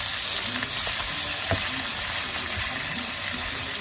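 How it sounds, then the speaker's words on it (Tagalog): Mixed seafood of shrimp, scallops, mussels and squid sizzles loudly in a hot pan for a creamy seafood carbonara, a steady close frying hiss with faint stirring scrapes and no talk. "Ilagay na natin yung ating mixed seafoods. Ayan, yung ating hipon, may scallop, mussels, and then meron din siyang squid."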